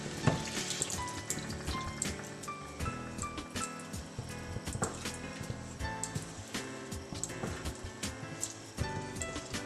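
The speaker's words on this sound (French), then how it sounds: "Je les laisse mijoter à feu doux pendant 10 minutes" Pav bhaji vegetables bubble and sizzle in their cooking water over low heat, a soft, steady crackle with irregular pops and gentle stirring, close up and fairly quiet.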